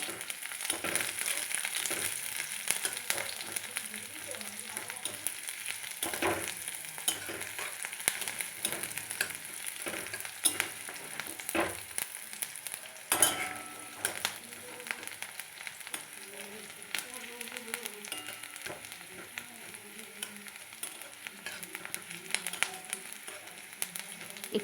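Garlic and chopped green chili fry with onion in a pan for masala Maggi, a steady low sizzle with occasional stirring clicks and scrapes, close and unbroken by speech.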